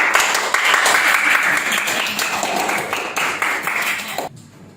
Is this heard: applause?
yes